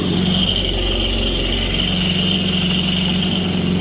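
A Kawasaki STX-15F jet ski engine drones at idle, a constant mechanical hum with a low rumble, close and unbroken throughout.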